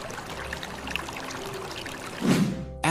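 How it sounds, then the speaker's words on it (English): Water pours and trickles into a Panama Canal lock chamber, a steady, moderately loud stream with a brief louder surge near the end. "When the flowing water forces the gate to automatically close."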